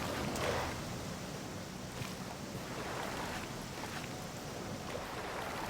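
A steady, broadband rush of a waterfall in the video game Gothic, continuous and fairly even throughout with no voices.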